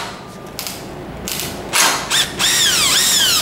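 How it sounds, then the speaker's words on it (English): Screws are removed from the metal frame of a massage mechanism, heard as short bursts of a power driver whirring and rising in pitch, separated by brief mechanical clicks and knocks, close and fairly loud. "we can remove the 2 screws on either end of the top of the metal frame so that we can remove the upper part"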